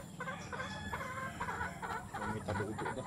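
A gamecock stag from a Philippine farm crows and clucks in a busy yard, the calls coming in short repeated bursts over a steady murmur of other fowl.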